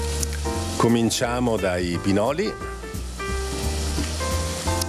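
Onion sizzling in a hot pan over a low flame, a steady frying hiss running beneath a person speaking throughout.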